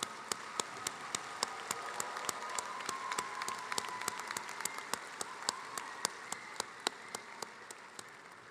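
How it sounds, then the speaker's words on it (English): Applause from a commencement audience for a speaker at a university graduation ceremony, a steady wash of clapping with sharp, evenly spaced louder claps punctuating it throughout, sustained at moderate level without speech. "Let's give him a round of applause again."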